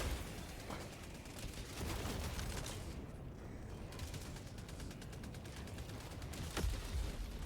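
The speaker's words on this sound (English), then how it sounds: "Me weaving my own MG turret's gunfire" A machine gun turret in the video game Helldivers 2 fires rapid, rattling bursts close by, mixed with mechanical clanks and creaks, pausing briefly midway before the dense gunfire resumes.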